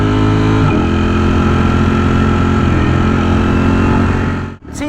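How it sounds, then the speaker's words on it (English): A motorcycle engine revs hard under load during a wheelie, a loud near buzzing drone whose pitch drops early then holds steady, cutting off abruptly near the end. "Nice wheelie, bro."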